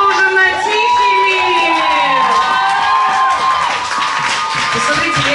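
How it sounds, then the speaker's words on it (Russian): An audience at an awards ceremony claps loudly, with cheering, whoops and high shouts, a continuous wave of crowd noise throughout. "аплодисменты ему, потому что, да, они были незаслуженно тихими"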